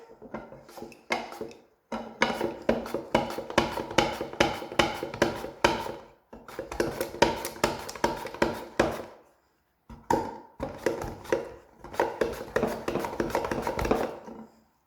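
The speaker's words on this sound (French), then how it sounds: "On va couper en tranches notre courgette." A knife slices a courgette into rounds on a board, making quick rhythmic clicking chops in several runs separated by short pauses, close and clear with no talking.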